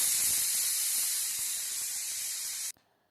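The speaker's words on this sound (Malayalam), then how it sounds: "അങ്ങനെ കുക്കർ ഒരു 4 വിസിലടിച്ചിട്ടുണ്ട്." A pressure cooker holding garlic releases steam in a loud, steady hiss for almost three seconds before it cuts off abruptly, leaving near silence.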